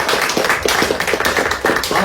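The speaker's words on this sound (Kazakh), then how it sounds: "қол шапалақтап қошемет көрсетіп қояйық" An audience at a literary evening breaks into brisk clapping, a dense run of hand claps that is fairly close and continues steadily throughout.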